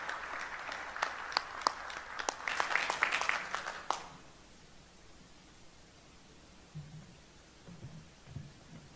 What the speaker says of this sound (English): Let's give General Brunson a big round of applause.